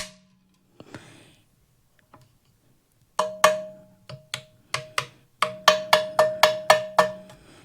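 The top cover of a PSA Tula AKM rifle is handled, producing a series of sharp metallic clacks and rattles, first a few sparse knocks, then a quickening run of crisp, close, ringing strikes.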